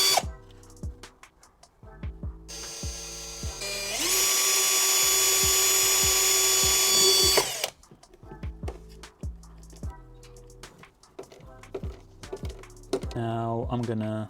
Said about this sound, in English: I'm gonna try to screw it in place very well now